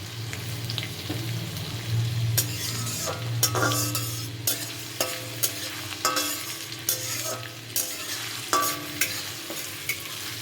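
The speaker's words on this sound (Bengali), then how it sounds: "আদা রসুনটা একটু ভাজা ভাজা করে" Chopped ginger and garlic fry in a small amount of oil in a pan, a steady sizzle running under repeated scraping strokes of a spatula stirring at an uneven rhythm, close and fairly quiet.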